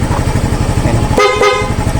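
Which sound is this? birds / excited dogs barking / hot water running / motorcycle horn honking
motorcycle horn honking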